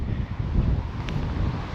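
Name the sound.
wind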